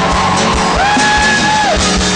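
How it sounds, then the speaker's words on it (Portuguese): Catholic congregation at a Marian devotion shouting and cheering for joy, a loud continuous crowd yell with a rising whoop-like cry mid-clip over rhythmic low thumps. "quem acredita aplaude e grita de alegria"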